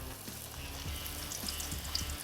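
Puris dropped into boiling-hot oil give a steady, close sizzle and bubbling hiss that holds evenly throughout, with no voices over it.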